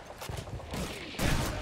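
Gunfire in the World War II shooter Call of Duty 2, a dense fusillade of overlapping shots at moderate distance that builds to a louder, closer volley toward the end.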